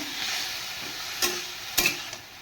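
Green figs and potato pieces frying with salt in a pan give a steady, soft sizzle, broken by two brief louder bursts of stirring.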